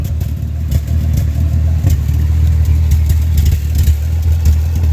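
A car engine runs with exhaust noise blowing out of a leak hole in the exhaust, a steady loud rumbling drone with a rough, pulsing low end, close and alone.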